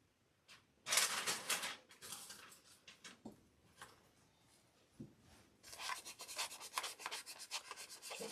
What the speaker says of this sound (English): And then we'll put a little more of our wax on that.